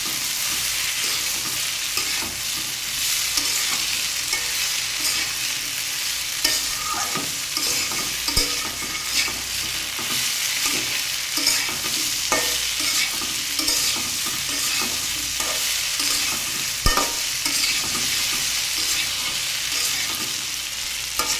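Cucumber, potato and soybean curry with green chillies frying in a pan, a loud continuous sizzle under steady scraping and stirring with occasional clinks of the spoon, close up.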